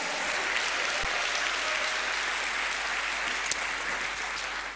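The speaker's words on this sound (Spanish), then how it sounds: "Dale un aplauso al Señor, amado hermano." A church congregation claps steadily and loudly, a dense wash of applause that holds throughout without pause.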